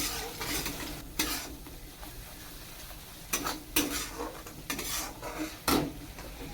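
Spice masala being fried and stirred in a pan, with intermittent scraping clinks of a spoon against the metal over a low, steady sizzle, close and moderately loud, no talking.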